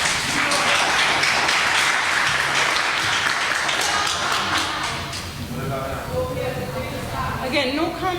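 Audience members clap at a municipal council budget meeting, a burst of applause for about five seconds that then thins out under a voice speaking.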